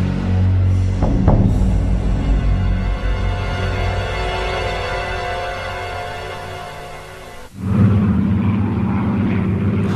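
Piston-engine British single-seat fighter, a Hawker Hurricane with a 1,460-horsepower Rolls-Royce engine, drones loudly and steadily overhead, then cuts briefly before a lower, rougher engine roar returns.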